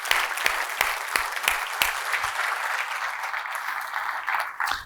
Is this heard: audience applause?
yes